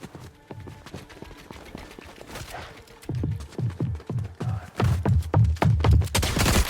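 Gunfire rattles through a shooter video game in rapid, sharp bursts that grow denser and louder midway, with single shots at first and then sustained volleys near the end.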